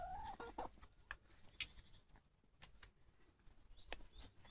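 Backyard chickens in Binangonan, Rizal, Philippines clucking at feeding time, a few soft, scattered clucks and squawks heard fairly faint in a quiet outdoor setting.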